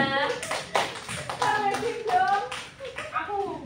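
A high school classroom bursts into scattered clapping for quiz winners during a practice lesson, the claps uneven and close, with children's voices chattering over them throughout.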